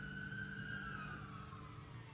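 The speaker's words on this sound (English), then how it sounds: "And I got a siren going on out there." A distant emergency siren wails outside, its pitch slowly falling, faint under a steady low background hum.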